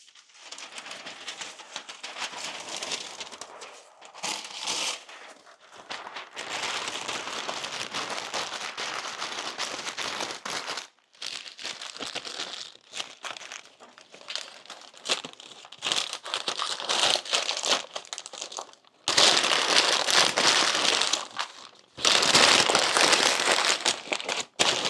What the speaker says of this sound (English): All right, loud paper time.